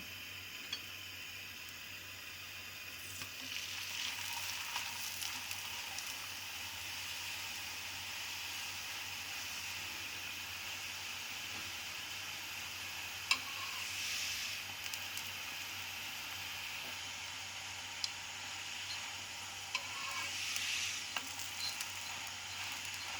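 Besan roti cooking with ghee on a griddle, a soft, steady hiss and sizzle with a few faint clicks, quiet and close, no one talking.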